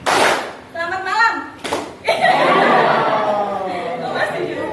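A classroom audience of students bursts into clapping after a greeting, a short burst near the start followed by a longer, fuller round of applause mixed with chatter and laughter, with a teacher's voice speaking between.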